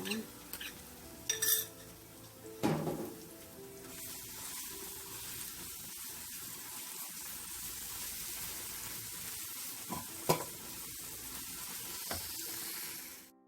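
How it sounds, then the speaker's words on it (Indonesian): Shallots and garlic fry in a pan with a steady, moderate sizzle, punctuated early on by a few clinks of utensils against cookware and occasional stirring knocks. "bawang merahnya, goreng sampai harum ya"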